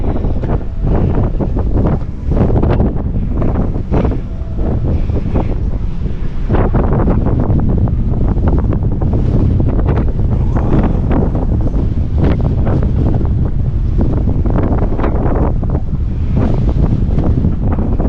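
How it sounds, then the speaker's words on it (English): Loud, relentless wind buffets the microphone in heavy gusts on a ship's deck at sea, with a roaring rush like surf and open sea underneath. "Very windy."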